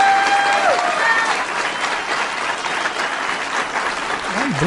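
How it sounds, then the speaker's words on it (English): A large crowd applauds at a political rally, with dense, steady clapping that holds at full strength throughout without a pause. "Go ahead, Republicans, start cheering."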